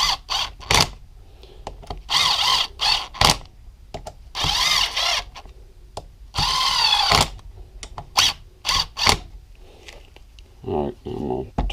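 Bolts go into the cylinder head of a 2015 Yamaha YZ250FX engine during a top-end rebuild. A power driver whirs close by in a string of short, loud bursts, with ratcheting clicks and talk in the gaps.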